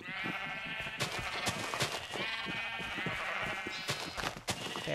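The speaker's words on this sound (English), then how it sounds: "how did that sheep get out of there?" Sheep in a video game bleat over and over, their overlapping nasal cries loud and close throughout.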